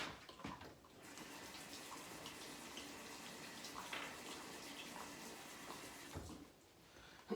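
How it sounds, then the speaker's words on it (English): A kitchen tap runs steadily while hands are washed beneath it during mug cake preparation, a continuous moderate splashing that starts and stops cleanly, with no voices. "I'm gonna wash my hands."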